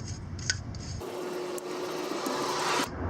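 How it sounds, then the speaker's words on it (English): A stiff brush scrubs the outer surface of a Galant VR4 rear brake caliper in a steady, continuous rasping stroke, close up and fairly loud, with a shorter scratchy start before the long sustained scrub. "to clean the outer part, we'll use this brush here"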